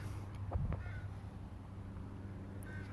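A crow caws a couple of times, fairly faint against a steady hum of outdoor background noise.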